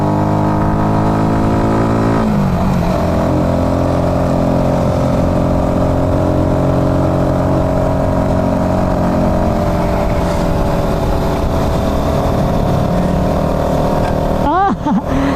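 A 2025 Rusi Flash 150X motorcycle engine labours uphill with a loud, steady droning note close to the microphone, shifting pitch briefly near the start and revving up sharply at the very end.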